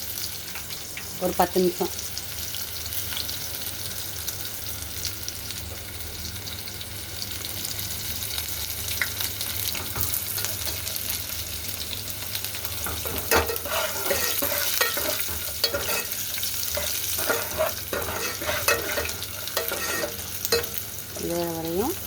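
Onions sizzle steadily in a hot pan, frying until browned, with repeated scraping and stirring strokes of a spoon over the constant crackle and a few brief spoken words.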